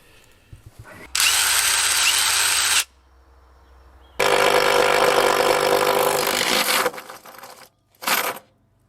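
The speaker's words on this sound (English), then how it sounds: "we got the hole drilled in the floor" A power drill bores a hole in a floor in loud, close bursts: a run of about two seconds, a pause, a longer three-second run, then a short final burst, with quiet handling between.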